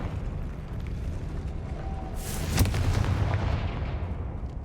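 A Confringo fire spell blast in the video game Hogwarts Legacy bursts out midway as a loud whooshing boom over a steady low rumble, then fades slowly.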